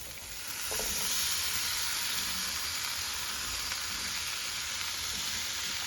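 Scallion whites and mushrooms sizzle in a hot pan, a loud, steady, close frying hiss that holds evenly throughout with no talking.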